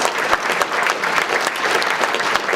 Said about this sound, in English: we want to give them a round of applause and thank them for their support of our event